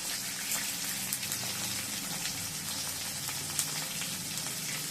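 Tomatoes sautéing in a pan for a ladies-finger and egg curry, giving a steady, close sizzling and frying hiss with small crackles throughout, no talk.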